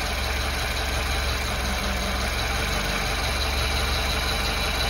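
A warmed-up Lada Zhiguli engine idles on A-100 petrol, a steady, continuous mid-to-low rumble that stays close and even throughout with no voices.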